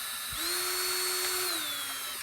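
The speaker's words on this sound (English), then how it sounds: "we'll go ahead and drill these out" A power drill drills screw holes in an 1885 Gustav Becker wall clock, whirring up to speed and holding a steady high-pitched whine for about two seconds before winding down, close and loud.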